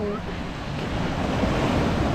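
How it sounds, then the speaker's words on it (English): Surf washes steadily onto a beach beside a pier, a continuous broadband wash with some wind noise on the microphone, fairly close and unbroken throughout. "But for now, chilling out at the pier by the beach."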